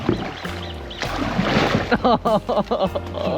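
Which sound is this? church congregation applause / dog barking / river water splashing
river water splashing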